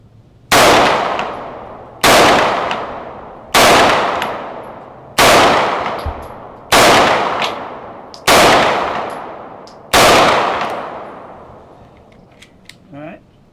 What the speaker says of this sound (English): let me load it up and shoot a couple rounds through it